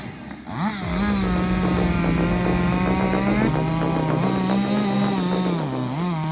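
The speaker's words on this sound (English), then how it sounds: "the steel chainsaw comes to life with a crisp, sharp roar" A steel chainsaw engine in a forest catches after a brief pull and then roars loud and close at a steady high idle, its pitch dipping slightly and rising again near the end.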